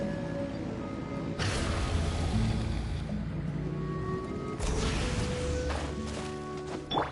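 Boat engines rev in the game Genshin Impact, surging twice into a loud, broad roaring wash over steady background music tones, with no voices.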